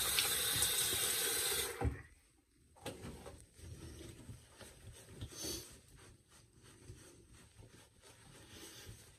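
A tap runs loudly for a couple of seconds to rinse a Wilkinson Sword Quad razor, then stops and leaves quieter drips and handling sounds close by.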